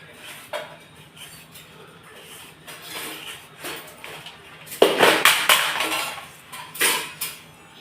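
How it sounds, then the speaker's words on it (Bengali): A knife cuts peeled potatoes into thin slivers on a board, producing a steady run of soft taps that grows into a louder, denser burst of quick chopping near the end, close up. "এবার আলুটাও আমি ঝিরি ঝিরি করে কেটে নেবো কাঁকরোলের মতো"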